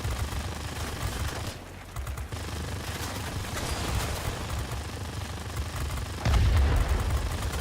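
XP-72 fighter machine guns firing in World of Warplanes, long sustained bursts of rapid gunfire with the trigger held down, dense and continuous with a brief lull and a heavier boom near the end.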